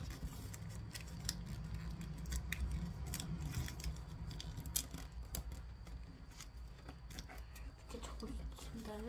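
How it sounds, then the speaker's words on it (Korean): Paper is folded deeply along the centre line for origami, producing close, soft crinkles and sharp creasing clicks in irregular bursts against a quiet room. "이제 또 가운데 선에 맞춰서 이렇게 깊게 접어줍니다"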